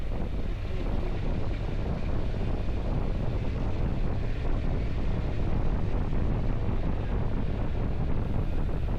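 Steady wind roaring over a rider on a Honda NC750X motorcycle fitted with Barkbusters Storm handguards, a loud continuous broadband rush that runs unbroken throughout with no talking.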